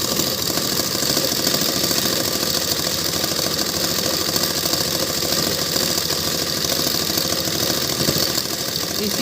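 A sewing machine stitches the side seam of a long suit, a loud, continuous whirring motor drone that holds steady and unbroken from start to finish.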